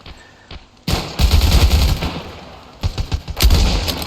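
Heavy machine gun fire in the video game Ravenfield, set in an imagined World War I raid on a castle: loud, dense bursts of rapid shots that start after a brief quiet lead-in, pause, then return in further close, rattling volleys.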